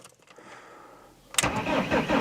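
A car engine cranks and catches about midway through, then settles into a loud, steady run close by, after a quieter stretch of low background noise.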